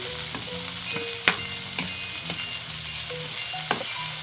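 Bamboo shoot (ubod) sizzles steadily in a hot pan, with a constant close frying hiss and occasional sharp clicks of stirring utensils against the pan, with no talk.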